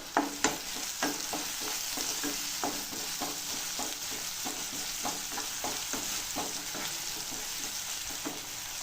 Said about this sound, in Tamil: இப்போ நம்ம வதக்கிடலாம்.